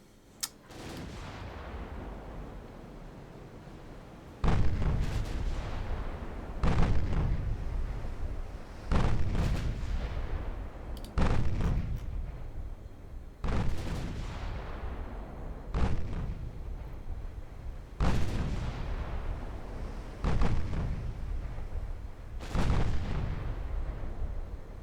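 Naval secondary guns in a video game firing at transports, seven or eight heavy booming reports spaced a few seconds apart, each with a long rumbling decay, loud and alone.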